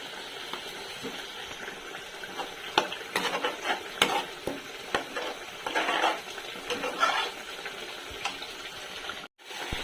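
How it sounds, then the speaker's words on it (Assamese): Tomatoes frying in a pan with a little turmeric, stirred with a utensil: a steady sizzle under repeated scraping and stirring strokes, close and moderately loud, with a brief dropout near the end. "বিলাহীৰ কেঁচা গোন্ধটো নোযোৱালৈকে এইখিনি ভাজি থাকিব লাগিব।"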